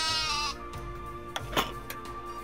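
A sheep bleats loudly in a puzzle video game, one drawn-out bleat followed by a few soft clicks and thumps.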